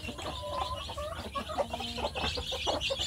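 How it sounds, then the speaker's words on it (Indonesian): Young Indonesian kampung chicks cheep and peep in a plywood box, a busy overlapping chorus of short high calls close by, with a low steady background hum. "Ini anak ayam kampung saya"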